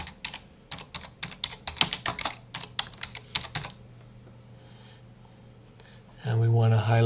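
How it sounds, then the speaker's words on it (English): Someone typing on a computer keyboard, quick bursts of clicky keystrokes for a few seconds, followed by a pause and then a voice speaking. "And we want to type executive summary."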